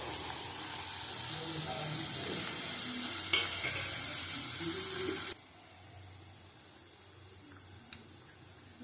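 Tomatoes hit a hot oiled pan with turmeric and salt for an egg chicken tadka, sizzling steadily under stirring, then the hiss drops sharply to a quieter simmer near the end with a faint clink.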